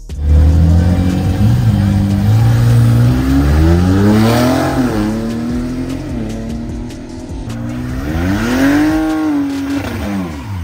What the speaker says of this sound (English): this gem right here that sounds like a Honda trying to do a burnout and looked awfully slow getting off the line in a stripped down drag pack Challenger